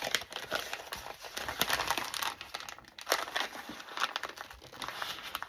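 Christmas wrapping paper pulled apart by hand, close and fairly loud: a continuous papery crinkling and crackling with irregular bursts of tearing and crumpling, no talking.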